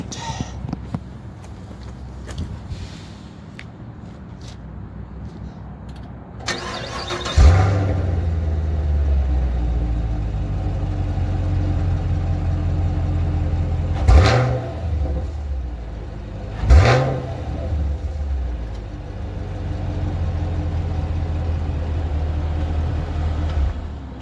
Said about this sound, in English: I want to do a startup from the back of the car.